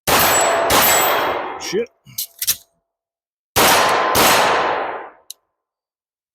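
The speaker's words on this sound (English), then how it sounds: "2 rounds each target. Transitions, working on driving the gun with my eyes." Handgun fired at steel targets on a range, two rounds per target: four loud, sharp shots in two close pairs with ringing tails, quick faint metallic hits between, and a brief muttered word near the end.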